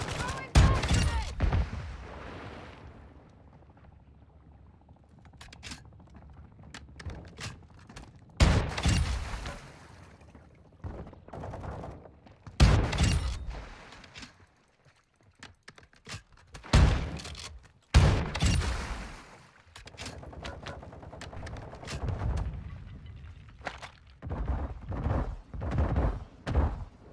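Video game firefight in Sawah Village with loud, sharp bursts of gunfire and booming volleys, separated by quieter gaps.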